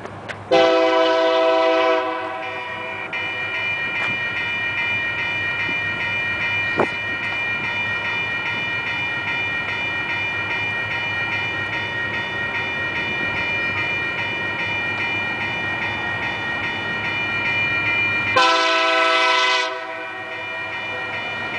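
A train passes a road crossing in the Denver area: a loud, near horn blasts at the start and again near the end, with steady rail rumble and wheel noise between.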